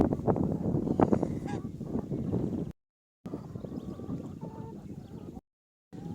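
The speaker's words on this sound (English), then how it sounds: "This is a guard goose" A farm guard goose honks repeatedly in loud, raspy bursts close by, the calls coming in an irregular run with wind buffeting the microphone and brief dropouts of silence.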